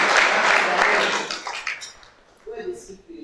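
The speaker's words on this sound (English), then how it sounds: "it deserves a very big hand clap." An audience at an inter-university human rights competition at Bishop Stuart University applauds in a full, loud burst that fades out after about two seconds, followed by a voice speaking.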